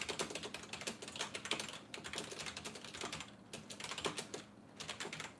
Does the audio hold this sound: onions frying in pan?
no